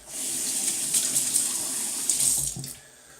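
Water runs from a tap while shaving lather of Williams mug shaving soap is being wetted, a steady hissing stream close by that briefly surges and then cuts off near the end.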